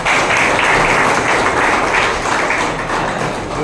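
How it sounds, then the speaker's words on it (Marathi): An audience claps steadily and densely throughout at a birthday felicitation ceremony for a bank academy director, a loud, continuous wash of applause. "आपण सर्वांनी त्यांना टाळ्या वाजवून त्यांचं स्वागत करायचं आहे"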